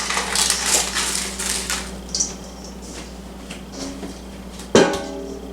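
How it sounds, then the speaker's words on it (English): A fruit bar mixture is pressed into a baking tin: soft squishing and crumbly pressing sounds up close, then a sharp metallic knock of the tin near the end. "Place remaining mixture in tin and press into base."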